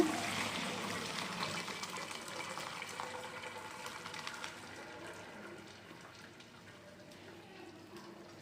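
Cooked rice and its cooking water are poured into a vessel to drain while making chicken dum biryani, giving a steady splashing pour that gradually tapers off. No one speaks.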